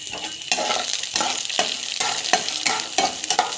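Dal, chana dal and cumin sautéing in a pan, a steady frying sizzle broken by regular rhythmic stirring scrapes about every half second, close up with no voices.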